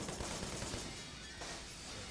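Rapid bursts of video game gunfire crackle through a dense, noisy mix, loud at first and then settling into a steady clattering wash.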